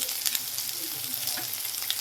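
Onion, chili, beans and capsicum frying in a pan, a close, steady hiss of sizzling oil with light stirring scrapes throughout and no talking.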